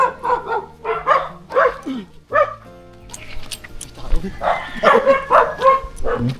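Dogs bark and yip repeatedly in quick bursts, close by, mixed in with people talking throughout.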